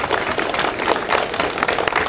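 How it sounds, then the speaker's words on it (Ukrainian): An audience at an award ceremony for a national dog handlers' multi-event championship breaks into dense, lively applause, many hands clapping loudly and continuously throughout. "Давайте ще раз привітаємо наших переможців бурхливими оплесками."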